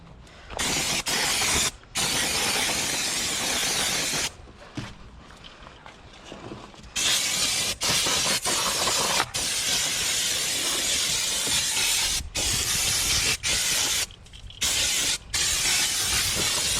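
Brake cleaner aerosol sprayed onto the new brakes of a 2019 Dodge Charger Hellcat, loud sustained hissing bursts of several seconds separated by short pauses, close up with no talking.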